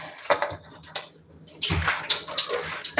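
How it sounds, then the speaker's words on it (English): Water splashes and sloshes as it is added to drop doughnut batter during Christmas snack making, a close, steady pour lasting a few seconds. "You can add a little bit of water or even milk to"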